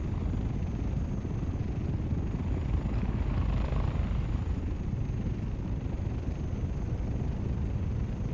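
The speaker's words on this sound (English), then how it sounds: "It sounds like a Chinook." An iRacing vehicle gives off a deep, constant rotor-like rumble much like a Chinook helicopter, steady and fairly loud throughout with a faint high whine above it.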